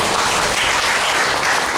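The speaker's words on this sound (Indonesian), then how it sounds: "Yang setuju tepuk tangan dulu yang meriah buat Anda" A church congregation breaks into a brief burst of lively applause during a sermon, a loud, dense clapping texture that fills the whole moment without voices.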